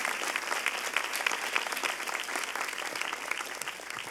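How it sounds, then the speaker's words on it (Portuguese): A church congregation gives a long round of applause for Jesus, a steady wash of many clapping hands heard at moderate distance with no pause. "Vamos dar uma salva de palmas a Jesus."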